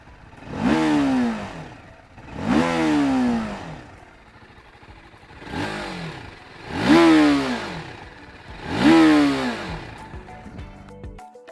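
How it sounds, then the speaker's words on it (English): A TVS Apache RTR310 motorcycle exhaust revved five times in succession, each blip rising sharply and falling back to idle, loud and close with a punchy, bassy tone. "And now it's time to hear the exhaust note."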